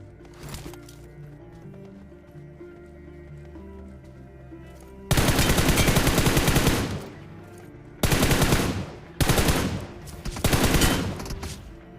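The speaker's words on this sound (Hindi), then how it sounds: "तभी सामने से गोली चलने की आवाज़ आ जाती है" Gunfire in BGMI during a Jujutsu Kaisen mode match: loud, close bursts of automatic fire that come in several sharp blasts with pauses between, over quieter game sounds.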